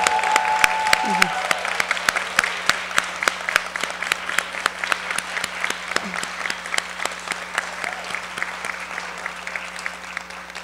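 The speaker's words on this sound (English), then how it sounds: "let's have all the winners stand for one more round of applause" An audience gives a round of applause for film contest winners, dense rhythmic clapping that starts strong and gradually thins and softens, with brief voices mixed in early on.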